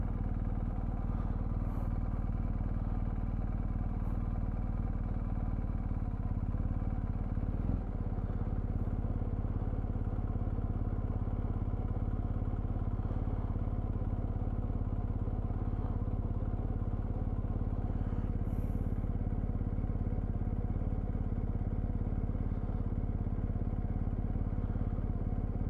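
A BMW GS motorcycle engine running steadily while riding off road, a continuous close drone with faint rattles and a few light knocks throughout.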